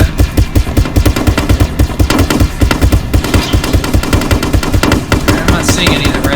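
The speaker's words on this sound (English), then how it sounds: "we're getting shot at" Rapid, loud automatic gunfire in a tank war video game, a dense unbroken string of close bursts with rhythmic low thumps running throughout, no talk over it.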